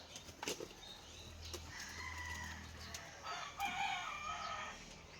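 Chickens cluck and a rooster crows nearby, with scattered bird calls and occasional wing flaps over a quiet rural background.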